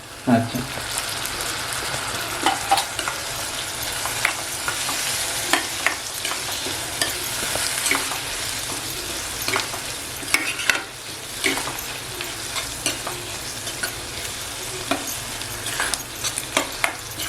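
Tomato with fresh coconut and coriander being stirred and fried in a pan, a steady sizzle broken by scraping and clinking spoon strokes throughout, close and moderately loud.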